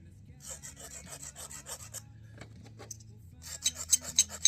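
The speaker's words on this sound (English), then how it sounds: "Got to grind the base." Base of a knapped stone point, Dalton style, ground against an abrasive stone in repeated rasping strokes, close and dry. The strokes grow louder and quicker toward the end.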